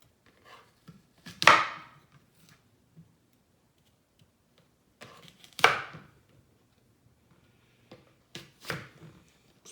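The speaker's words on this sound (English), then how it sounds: "I'm going to cut up this apple into skinny slices" An apple sliced into skinny slices with a knife, a few sharp crisp chops against a board spaced several seconds apart, close and clear over near silence, with faint small ticks between the cuts.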